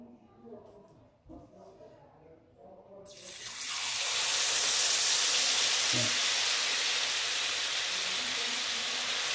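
Anchovy vada frying in hot oil on a stove: a loud, steady broadband sizzle bursts in after a few seconds of voices and holds continuously to the end.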